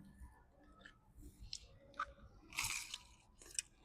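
Crunchy fried chicken being bitten and chewed at a food stall, a series of close, crisp crunches and mouth sounds with a few sharper bites, fairly quiet and without talk.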